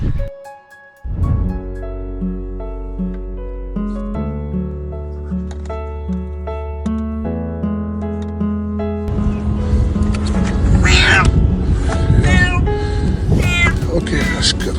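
A cat stranded and clinging to a car door in floodwater meows during its rescue, the calls rising over music and rushing noise while people speak nearby.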